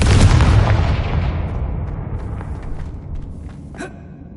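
A Confringo blasting spell in Hogwarts Legacy goes off as a loud, close explosion, a broad roaring burst that fades over a few seconds, followed by a smaller sharp crack near the end.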